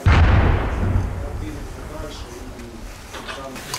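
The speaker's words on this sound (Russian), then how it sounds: "нажал, взрыв" Explosion of a 3D-printed munition dropped from a drone in a combat setting: a loud, close low boom at the start that rolls off into a fading rumble, with talk layered over the tail.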